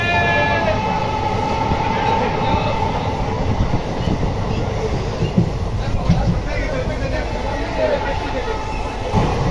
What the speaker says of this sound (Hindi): तो भाई ट्रेन ने अपनी फुल रफ्तार पकड़ ली है बिल्कुल